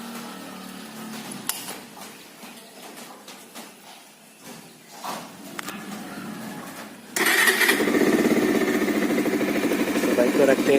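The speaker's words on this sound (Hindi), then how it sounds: "करते हैं बाइक को कोल्ड स्टार्ट।" A Bajaj Pulsar 220 motorcycle is cold started, shuffling and handling noises giving way to an abrupt engine catch and a loud, steady idle close by.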